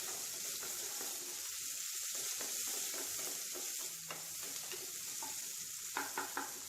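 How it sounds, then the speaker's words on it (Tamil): Onions sautéing in hot oil with mustard seeds, urad dal and curry leaves while being stirred, giving a steady close sizzle with scraping spoon clicks throughout. "எண்ணெயில் கொஞ்சமாக கடுகு உளுந்தம் பருப்பு கருவேப்பிலை போட்டு தாளிச்சிடலாம்"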